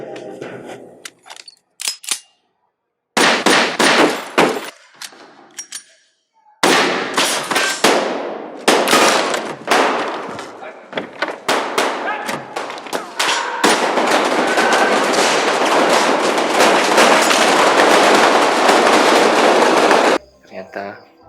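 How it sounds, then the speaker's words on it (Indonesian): Rapid bursts of gunfire in a film shootout between soldiers, loud and sharp, broken by short silences and then a long sustained volley of shots. "namun hal itu memicu tentara untuk menembakkan senjatanya. Tembak-menembak pun terjadi."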